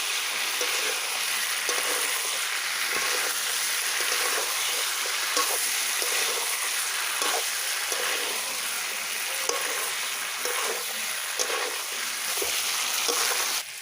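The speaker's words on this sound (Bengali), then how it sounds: "ভালো করে নাড়াচাড়া করে নেব, আলুটা মাংসের সঙ্গে মিশিয়ে নেব।" Fried potatoes get stirred into braised chicken in a pan for a Bengali chicken aloo jhol, with steady close sizzling and frying broken by repeated scraping, stirring strokes throughout.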